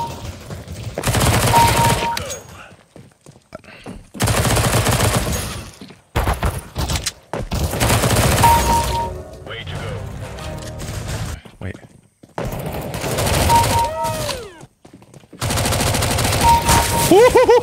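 Bursts of automatic gunfire in CS:GO come in repeated loud volleys separated by short gaps, with players shouting and talking between and over the shots.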